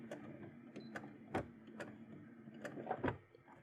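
Sewing machine running slowly in short bursts while back-tacking with a zipper foot along the seam of a bustier, with quiet mechanical whirring and a few clicks, faint and close with no talk.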